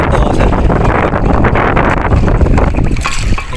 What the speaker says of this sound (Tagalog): sobrang lakas ng alon dito. Tsaka hangin.